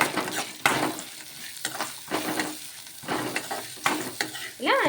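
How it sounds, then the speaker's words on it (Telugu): Roasted gram dal, garlic and coriander being stirred in a hot pan: repeated scraping strokes of a spoon over a light sizzle, close and uneven, with a small clink at the end. "ఇందులోకి కొద్దిగా కొత్తిమీర కూడా వేసుకొని ఒకసారి బాగా కలిపేసుకోవాలి"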